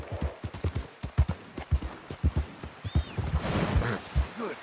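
A horse's hooves in the video game Red Dead Redemption 2, a steady rhythmic clip-clop of a walking or trotting gait, close and clear, with a whooshing rise of wind or movement near the end.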